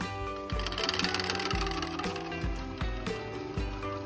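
A Nostalgia three-tier chocolate fountain motor runs with a steady, close mechanical hum, punctuated by regular rhythmic thumps roughly every half second to second.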